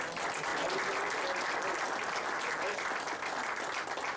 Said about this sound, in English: round of applause for our food service director, Stacy Waller